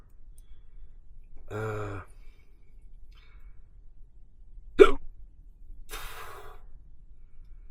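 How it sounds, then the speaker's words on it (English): Three separate hiccups, each a short sharp catch of breath, spaced well apart against quiet background hiss. "Got the hiccups."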